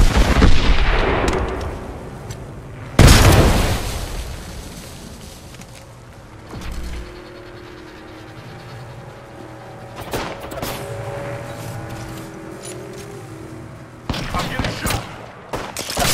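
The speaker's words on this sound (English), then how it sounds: "Shooting." Gunfire in a squad match of the battle royale game Apex Legends: bursts of shots and a heavy boom, loud up close with more distant volleys later, among game ambience.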